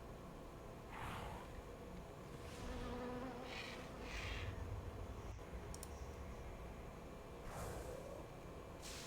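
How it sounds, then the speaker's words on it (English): Buzzing insect swarm effect from a Swarm of Flies attack in a video game pet battle, a steady droning hum under faint clicks, with no voices. "Let's go for a swarm of flies."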